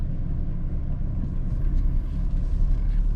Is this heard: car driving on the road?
yes